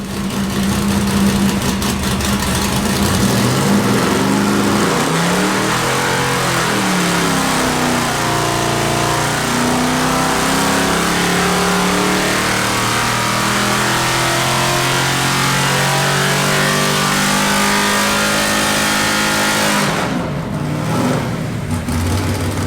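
Big block LS6 454 V8 on a dyno with the air cleaner fitted, revving hard in one loud, sustained pull with rising engine tones, dropping off abruptly near the end.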